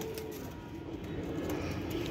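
Soft cooing of a pigeon kept on a house rooftop, low and murmuring, fairly faint over a steady background hum.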